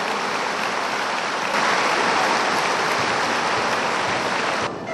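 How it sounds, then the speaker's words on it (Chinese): Audience applause for student performers from Minsheng and Pinghe elementary schools and Datong junior high at the opening of the 2010 Changhua County sports meet: a dense, steady wash of clapping that swells slightly midway and cuts off near the end. "掌声给他们，感谢一下。"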